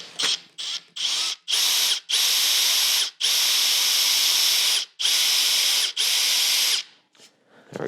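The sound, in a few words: power drill boring into wood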